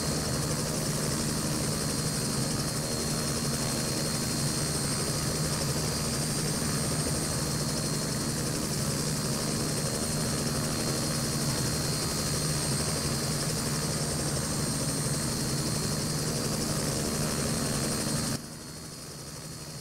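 Robinson R66 helicopter in a flight simulator game, its steady rotor and engine drone holding loud and even throughout, dropping suddenly to a quieter hum near the end.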